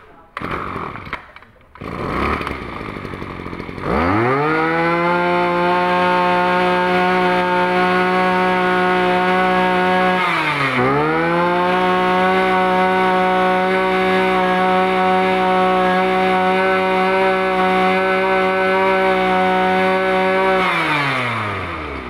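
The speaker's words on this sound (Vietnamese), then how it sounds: "nghe tiếng máy nó rất là gông và chạy rất là đều máy ha, không có bị sựng giữa chừng ha" A 25cc chainsaw engine starts with a few pulls, then revs up and runs steadily at a loud, even pitch with one brief dip, holding smoothly until it drops near the end.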